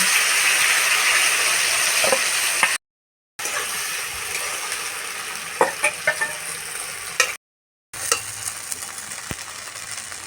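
Sweet-and-spicy pumpkin chutney fries in mustard oil in a wok, a loud continuous sizzle with scattered stirring scrapes and ladle taps, broken by two short silent gaps.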